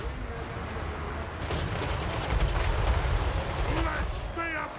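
A sustained volley of massed gunfire from units in a Warhammer strategy game, a dense continuous crackle rising in intensity midway and holding steady.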